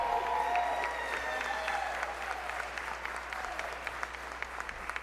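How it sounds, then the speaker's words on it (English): Audience at a live entrepreneurship presentation event applauding, a dense sustained clapping from a crowd that stays steady for several seconds, fairly close and full. "Y'all stand up and give her a round of applause."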